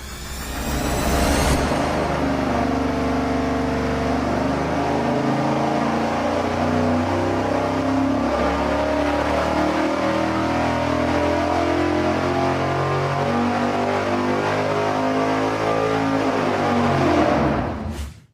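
Engine fitted with an Edelbrock RPM intake pulling on a dyno, a loud, steady, full-throttle roar climbing through the revs before cutting off abruptly at the end.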